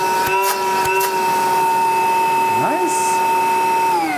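A Milwaukee M18 cordless vacuum, powered by an M18 6.0 battery, runs with a steady, loud, high-pitched motor whine throughout, with a few clicks at the start and a brief spoken word.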